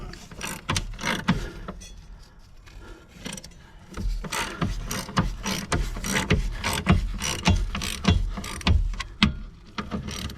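Ratchet tightening subframe crossmember bolts during a reinstall, a near, fairly loud series of rapid clicking bursts with brief pauses between strokes, mixed with some metallic knocks and rubbing.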